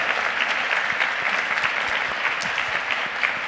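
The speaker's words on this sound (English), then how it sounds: "So can we have another round of applause for all of these students?" Steady audience applause for students after a presentation at a space station STEM education conference, a dense, even wash of many hands clapping that fills the whole stretch without pause.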